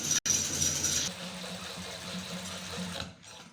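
A sewing machine runs a second line of stitching along a frock seam, whirring rapidly and close for about three seconds with a slight change in pace midway before stopping.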